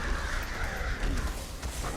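Murder of Crows ability in World of Warcraft: Battle for Azeroth, a loud flurry of harsh crow caws over dense game ambience and music.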